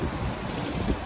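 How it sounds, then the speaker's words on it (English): Cold wind blowing outdoors in the UK, a brief steady rumbling rush with microphone buffeting and no voices. "UK is very cold and windy."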